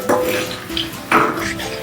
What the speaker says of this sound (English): We need to flip every single one.